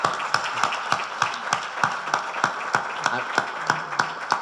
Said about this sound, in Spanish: Voy a pedir otro aplauso para las mujeres.